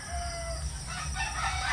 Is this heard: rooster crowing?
yes